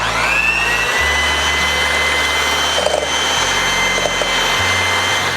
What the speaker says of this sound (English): now we're gonna whisk the egg whites until it turns into soft